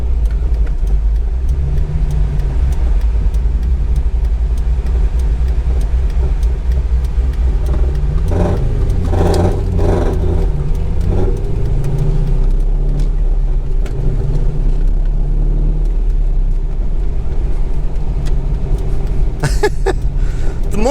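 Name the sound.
car engine and exhaust running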